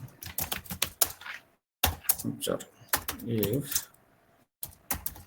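Keystrokes on a computer keyboard while a Power BI DAX formula is written, quick clusters of clicks broken by pauses, with someone talking over much of the typing.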